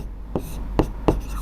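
Pen writing out a Class 10 trigonometry solution: three quick scratching strokes, close and moderately loud over a steady low background hum, with no speech.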